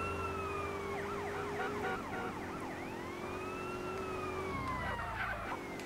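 Ambulance siren in the video game GTA San Andreas, a wailing tone sweeping up and down over a steady engine hum, fairly loud and continuous throughout with no talking.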